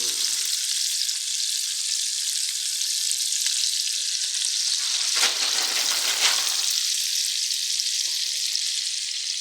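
Vegetables and potatoes fry in a pan with a loud, steady hiss and crackle, close up, with a brief stir or shift in the sizzle around the middle.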